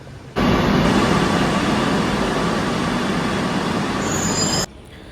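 Loud, steady rumble of a Kochi Metro train in motion near Edappally, a continuous roar with rail noise lasting several seconds, then cutting off abruptly.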